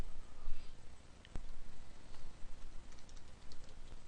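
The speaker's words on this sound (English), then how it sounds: "I'll continue by typing the address of Sacramento Community College." Typing on a computer keyboard while entering a college address into a Word 2007 document: faint, scattered key taps with one sharper click near the middle, quiet and close, with no voices.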